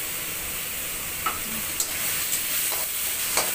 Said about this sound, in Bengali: আদা বাটা, কাঁচা লঙ্কা বাটা, আর এটা হচ্ছে রসুন দিয়ে দিচ্ছি, রসুন দিয়ে দিলাম।